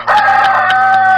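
A talisayon gamecock crows once, loud and close, with a long sustained call that fills the short moment.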